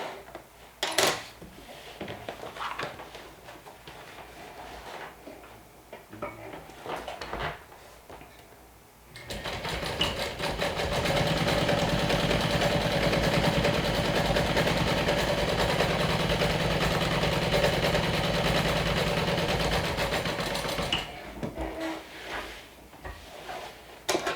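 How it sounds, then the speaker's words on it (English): A sewing machine running steadily while top stitching fabric pieces for a Blue Calla Thistle bag, a continuous mechanical whir lasting about ten seconds, loud and close, framed by quieter handling sounds before and after. "we're going to top stitch the same way towards the top part."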